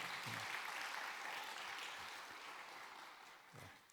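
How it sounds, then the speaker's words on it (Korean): A church congregation at a Wednesday worship service claps for the worship team, a broad, even wash of applause that slowly fades over a few seconds, with no talking. "오늘 한번 격려로 박수 한번 하겠습니다"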